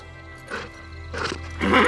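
A cartoon Playmobil horse neighs and whinnies in two rising bursts, fairly close and loud over soft background music.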